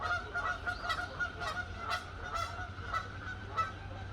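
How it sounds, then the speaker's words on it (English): Two geese honk repeatedly as they fly overhead outdoors, a series of moderately faint, rhythmic calls over a low steady background hum. "two geese just flew over."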